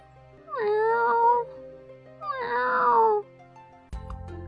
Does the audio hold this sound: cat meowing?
yes